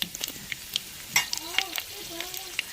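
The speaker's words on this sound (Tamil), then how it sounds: "எண்ணெய் சூடாச்சுங்க கடுகு போட்டுக்கிறோம் ரெண்டு சின்ன சீரகம் போட்டுக்கிறோம் வத்தல் சேர்த்துக்கிறோம்" Mustard seeds, cumin and dried chillies crackle and sizzle in hot oil for a curd curry, a steady low frying hiss with scattered sharp pops and a few faint stirring clinks.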